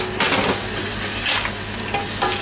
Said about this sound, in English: So, igigisa lang natin ito. Isama na natin yung pepper.